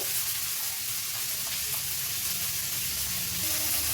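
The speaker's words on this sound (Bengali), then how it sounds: "এবার আমি ভালোভাবে ভেজে নেব সবজিটা" Chopped onion, carrot, capsicum and green chilli fry together in a pan with salt, producing a steady, even hiss of sizzling oil at moderate volume with no speech.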